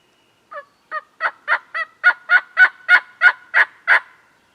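A young male wild turkey, a jake, gobbles in a series of about a dozen rapid, evenly spaced rattling calls outdoors during a spring hunt, building louder and then stopping, with no talk over it.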